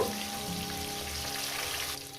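More rohu fish pieces sizzle in hot oil, a continuous close crackling fry with faint background hum and no talking.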